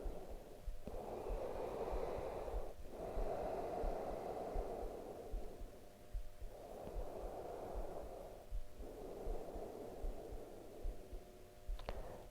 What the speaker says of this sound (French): prendre quelques respirations dans cette position